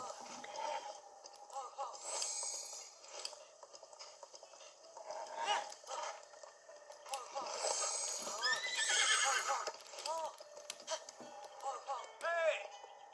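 Repeated horse whinnies and neighs with hoof clip-clop from a mount in Zelda: Breath of the Wild, sounding over steady game ambience across the stretch, with several loud whinnies spaced out.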